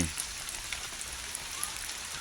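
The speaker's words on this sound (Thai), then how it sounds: "อยากตกอีกละฝนนี่" Steady rain falls near a creek mouth, a dense, even patter of drops close by with no voices over it.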